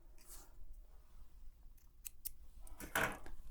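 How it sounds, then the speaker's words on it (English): Scissors snip off excess thread or belt on a Franklin treadle sewing machine, a few quick close cutting clicks in a quiet room, with the last cut the loudest. "I'll just take and snip off a little of this excess right here."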